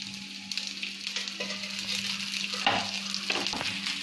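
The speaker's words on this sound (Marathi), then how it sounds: "थोडंसं तेल टाकू कांदा भाजायला" Onion fries in a little oil in a pan while spices for a stuffed brinjal dish are roasted, making a continuous close sizzle. A few stirring scrapes cut through it, with no talking.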